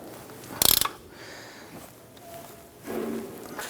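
A wrench ratchets quickly to snug the lower ball joint nut on a 1997-2006 Jeep Wrangler, a short burst of close clicks followed by fainter workshop handling noise.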